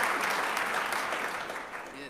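A burst of clapping from a crowd, dense and steady, tapering off slightly toward the end.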